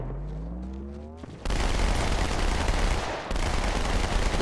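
Loud, dense gunfire and blasts from the Halo 2 video game, including sniper shots, erupt after a brief quieter start and continue as sustained rapid fire with a second sharp burst near the end.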